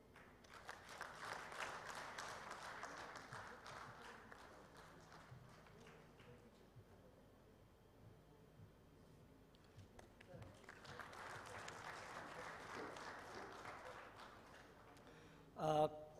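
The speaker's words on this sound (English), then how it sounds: "Could we please have an applause?" Applause from an audience at a ceremony, a soft, distant patter of many hands that swells, fades in the middle, then rises again, with a brief louder sound at the end.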